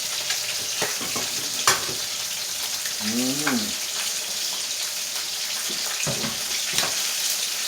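Ingredients for Jamaican turn cornmeal cooking down in a pan, a steady broadband sizzle that runs throughout with occasional stirring clatter and a brief voice partway through.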